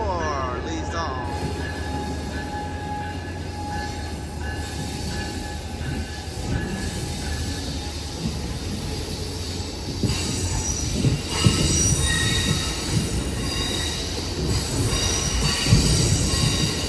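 Amtrak Capitol Corridor train 525, led by a Siemens Charger locomotive, arriving at Emeryville station, its wheels squealing in sustained high-pitched tones over the rumble of rolling railcars, with the grinding building louder toward the end.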